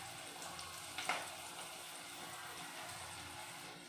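Faint, steady sizzling of food frying in a pan, with a brief clink near the start and a constant low hiss throughout.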